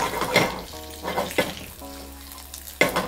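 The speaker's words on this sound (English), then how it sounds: "I know it looks quite sad frying those beautiful leaves" Sage leaves crackle and sizzle in hot oil, with soft stirring sounds and a few sharp pops between quieter frying.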